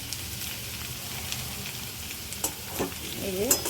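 Potatoes frying in oil in a karahi, a faint continuous crackle and hiss with a few louder spatters and a clink of a utensil toward the end.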